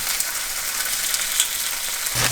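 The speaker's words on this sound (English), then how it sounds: "So the chicken is cooking" Chicken fries in a pan for a meal-kit dinner, a continuous close hiss and crackle of sizzling oil, steady throughout with a soft clunk near the end.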